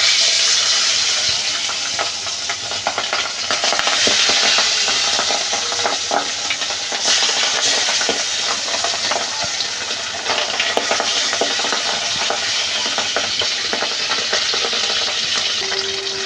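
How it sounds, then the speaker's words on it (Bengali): Pabda fish frying in hot oil for a mustard pabda curry give off a steady, loud, close-up sizzle and hiss that runs unbroken for about sixteen seconds, with no voices. "মাছগুলো আমি ভেজে নেব।"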